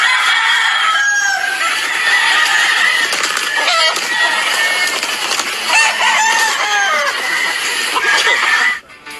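A pedigreed gamecock rooster crows loudly and close up, with clucking and other fowl calls continuing around it throughout.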